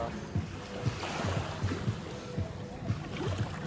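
Beach ambience on Koh Tao island, Thailand: steady wash of surf and wind buffeting the microphone, with faint rhythmic thumps and no clear speech.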